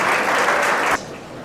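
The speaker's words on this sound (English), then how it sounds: "give yourselves a round of applause for just looking so beautiful" Audience applause at a 2022 IVR board of directors installation event, a dense burst of clapping from a crowd that cuts off abruptly after about a second, leaving faint room noise.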